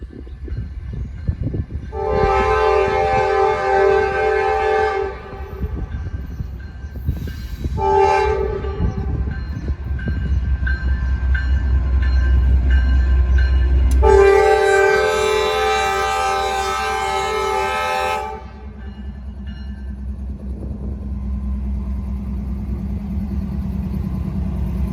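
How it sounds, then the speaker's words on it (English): A Norfolk Southern freight train rumbles past close by, its loud multi-tone horn blaring in several long blasts over the steady roar of rolling cars. "This Norfolk Southern train is on track 1."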